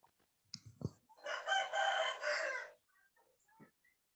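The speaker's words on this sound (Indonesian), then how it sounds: "Aduh, masih ada suara ayam ya." Rooster crowing in the background of a Zoom class call: one drawn-out crow lasting about two seconds, faint and distant, with a few small clicks and knocks around it and no talk.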